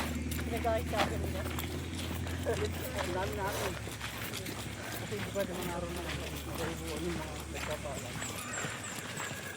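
Hooves of a white horse clip-clopping during an outdoor event, a steady rhythmic clatter passing nearby while people talk over it.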